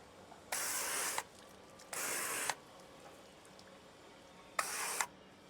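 Three bursts of hissing water spray onto a boat hull, each about half a second to a second long, separated by quiet pauses; no voices.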